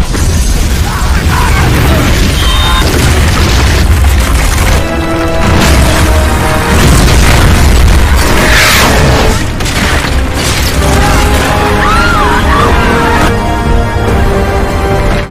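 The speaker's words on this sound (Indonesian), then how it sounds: "dari ujung jembatan ke ujung jembatan ternyata sudah diledakkan" Explosions blowing up a bridge in an action film, loud booming blasts with crashing debris and mechanical clatter layered over a dense, continuous film soundtrack.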